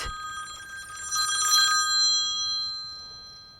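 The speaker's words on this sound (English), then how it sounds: "that's my phone, isn't it, dude?" A mobile phone rings with a bright electronic ringtone, rising quickly, holding for about a second and a half, then fading away in an otherwise quiet room.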